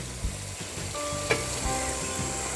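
Turmeric and chili powder stirred in a sizzling pan of hot oil for chicken khichuri, a steady close fry hiss with a few scraping stirs and a sharp clink.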